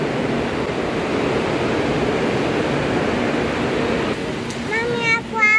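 Heavy rain and flowing water in Izmir make a dense, steady rushing wash close by, with a voice breaking in near the end.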